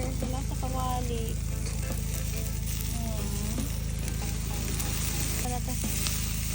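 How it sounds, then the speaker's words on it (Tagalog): Ribeye steak grilling without butter at a beach campsite, a steady close sizzle with a constant low hum beneath it and scattered clinks and metallic scrapes over the top. "Guys, we have a ribeye here."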